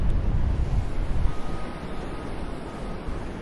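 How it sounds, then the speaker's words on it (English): Wind buffets the microphone in heavy low rumbling gusts, easing a little partway through into a steadier rush of outdoor air. "it's kind of windy"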